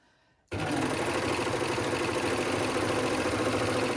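An overlocker sewing machine starts abruptly from near silence into a loud, steady, fast mechanical whirring drone that continues unbroken, close to the listener.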